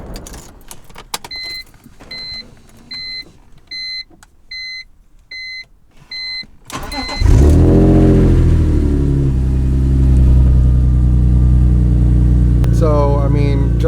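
BMW E46 M3 with a no-start fault: a regular series of dash chimes and beeps with the ignition on, then the starter cranks and the engine catches into a loud, steady, close idle. A person speaks over it.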